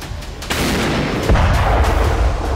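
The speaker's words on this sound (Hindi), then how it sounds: "सेना के प्रवक्ता ओलेक्जेंडर शटकोन के मुताबिक रूस ने अपने तोपखाने की आग और हवाई हमलों को दोगुना कर दिया है" Russian artillery fire thunders in heavy, loud booms, with a couple of sharp blasts rolling over a dense, continuous rumble.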